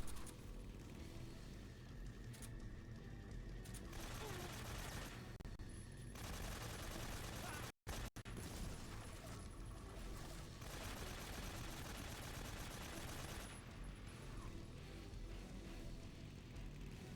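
Sustained, dense gunfire in Metal Gear Solid 3, a loud rattling stream of shots that runs almost without pause, broken once by a brief dropout.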